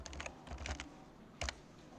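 Fingers type on a computer keyboard in a few quick clusters of soft, close clicking keystrokes, with short pauses and one final pair of taps.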